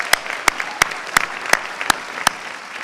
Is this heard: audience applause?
yes